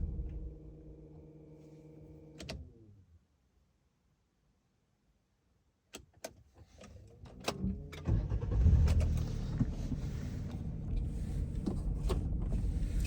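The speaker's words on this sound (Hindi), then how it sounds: "गाड़ी की आवाज आ रही है" A car engine idles on a quiet mountain road near Malana village in Himachal Pradesh. It cuts off into near silence, then a few clicks and thumps lead to the engine starting and running loudly and steadily.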